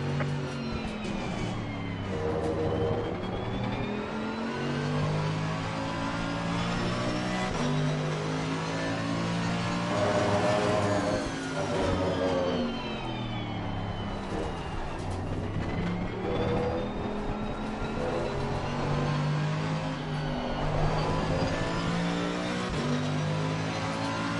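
A race car engine in the Assetto Corsa Competizione video game at the Misano circuit revs and shifts continuously, its pitch climbing and dropping through gears with a steady drone and no talk.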